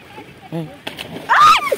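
Strong sea wave at Guinayangan slapping and splashing, a short wet burst near the end after brief chatter and a voice, close and loud.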